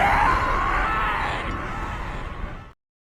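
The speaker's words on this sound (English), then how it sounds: "I'm going to play that scream whenever I can." Darth Maul's scream as voiced by Sam Witwer in Star Wars: a single loud, sustained anguished yell with a rising pitch, held for nearly three seconds before cutting off abruptly into silence.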